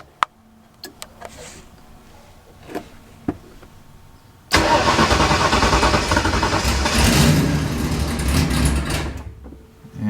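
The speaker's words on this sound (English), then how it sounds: "I'm gonna try this cold start up real quick." A cold engine at 59 degree coolant temperature cranks and catches after a few quiet knocks, then settles into a loud, steady, slightly rough running note that holds to the end.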